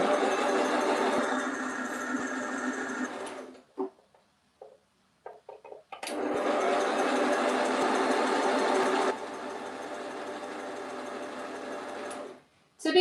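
A sewing machine runs in a steady close buzzing whir, stops for a few seconds of small handling clicks, then restarts for a longer stretch of continuous stitching before stopping again.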